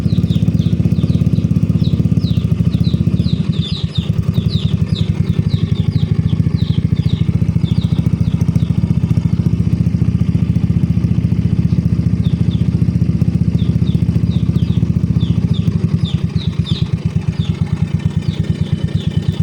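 A Honda Mio i 125 scooter engine idles steadily as it warms up, a close, continuous mid-pitched drone with light mechanical clatter and brief dips in the rhythm, no talking.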